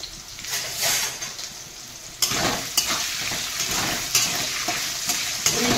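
Potatoes go into a hot pan and fry with a bright hiss that jumps louder midway. Repeated scraping strokes of stirring follow, close and clear, with no talking.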